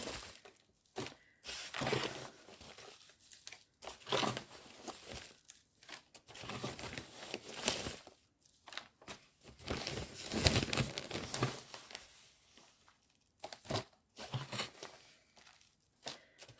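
Bag of potting soil being moved and handled for container vegetable growing, giving repeated crinkling and rustling bursts of plastic, faint and close, in irregular clusters with short pauses between them.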